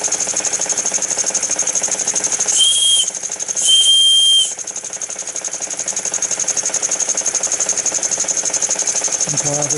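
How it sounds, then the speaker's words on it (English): Two short, high-pitched toots from an Empire toy steam engine whistle, each about a second long, over a steady mechanical hum and rattle. "Empire whistle works."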